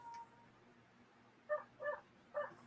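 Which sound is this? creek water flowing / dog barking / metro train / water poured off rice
dog barking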